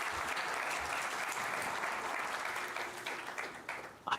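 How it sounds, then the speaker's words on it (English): Dense applause from a conference audience, a steady wash of many hands clapping that fades and thins out toward the end. "Can I please have a huge round of applause for Mr. Mark Dempsey?"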